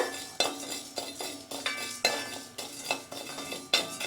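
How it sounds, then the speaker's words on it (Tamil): Salt dry-roasting in a pan for sambar powder, a spoon scraping and clinking against the metal at a steady rhythm roughly every half second, close and fairly bright, with no talk. "உப்பு, இந்த உப்பை அந்த ஈரத்தன்மை போகிற அளவுக்கு லைட்டாக வறுத்து எடுத்துக்கலாம்"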